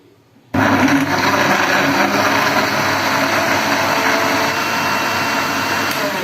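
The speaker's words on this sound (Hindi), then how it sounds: "अब हम इसको ब्लेंड कर लेंगे।" A blender runs steadily on a banana milkshake made with fresh cream, switching on abruptly after a brief silence and then whirring loudly and continuously at close range.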